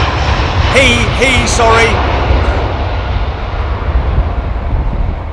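An aircraft drones steadily as it approaches Heathrow Airport to land, a loud, continuous engine roar that carries through the whole stretch, with a voice speaking briefly over it near the start.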